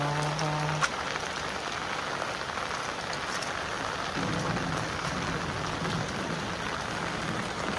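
Steady rain pours down continuously, a dense hiss of drops on surfaces with no voices, close and fairly loud.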